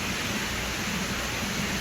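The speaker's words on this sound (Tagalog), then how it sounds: "Malakas na po ang hangin at ang ulan" A dense, steady roar of heavy typhoon rain and gusting wind at night in Palawan fills the whole clip with no pauses.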